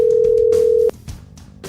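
Loud steady telephone call tone on a podcast phone line that holds for just under a second and then cuts off abruptly, followed by faint clicks and line noise.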